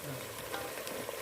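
Eggplant curry (ringna no olo) is stirred in a pan over low heat, giving a soft scraping shuffle over a faint, steady sizzle in a brief, quiet moment.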